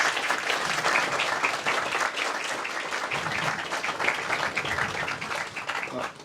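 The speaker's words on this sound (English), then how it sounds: "Round of applause for our bagpipers." Sustained applause from an outdoor ceremony crowd honouring a group of bagpipers, steady dense clapping throughout with faint background voices, fairly near and loud.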